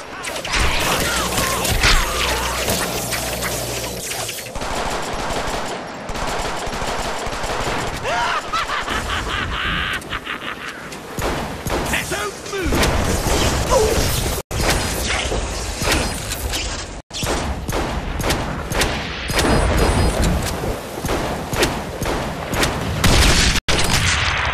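Gunfire in the Deadpool video game on Xbox, a dense, loud, continuous barrage of shots, impacts and mechanical clatter running nearly unbroken throughout, with brief sudden cut-outs.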